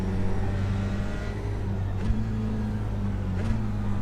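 Dallara F3 race cars at the Nürburgring in a racing video game drone past at high revs, a steady engine whine with two sharp gear shifts stepping the pitch up.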